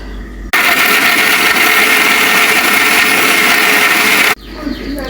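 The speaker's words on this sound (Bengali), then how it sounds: "এখন একটা ব্লেন্ডার জারে ঢেলে নিয়ে নিব।" A blender jar grinding cooled cooked meat for a Bengali meat bharta runs loud and steady for about four seconds, a continuous close motor whine that starts and stops abruptly, with quieter room sound before and after.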